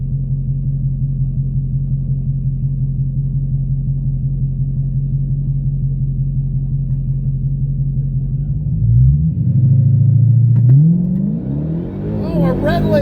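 Drag race cars on the strip: a steady, loud engine drone holds for several seconds, then revs swing up and down as the cars launch, with an announcer-style voice talking over it.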